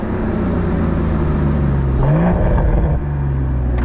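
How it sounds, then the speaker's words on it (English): A 2022 Toyota GR Supra engine drones steadily at close range, the pitch climbing through a rev rise midway before settling back into a loud, continuous hum with no voices. "It's all about this Toyota Supra."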